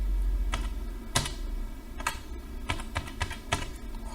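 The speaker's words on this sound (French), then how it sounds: "je vais écrire mon mot de passe" A password is typed on a computer keyboard in irregular clusters of crisp, close keystrokes with short pauses between them and no speech.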